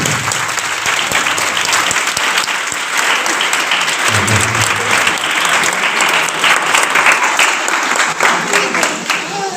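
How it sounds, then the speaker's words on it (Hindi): Loud, sustained applause fills a church worship program, dense clapping from a congregation running steadily throughout with some voices mixed in. "मैं चाहूँगा यीशु के जलाल के लिए जोरदार ताली।"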